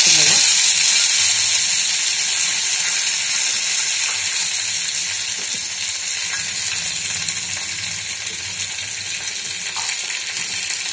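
Curry leaves sizzling in hot oil in a pan, a steady bright crackling hiss that starts loud and settles slightly over the stretch.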